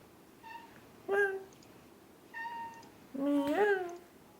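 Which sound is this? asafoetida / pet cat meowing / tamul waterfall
pet cat meowing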